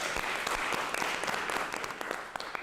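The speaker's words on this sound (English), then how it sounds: "So a big round of applause for the team." At a public broadcaster's commission meeting, attendees applaud the team with steady, fairly quiet clapping from a modest group, individual claps audible within the brief, even wash of sound.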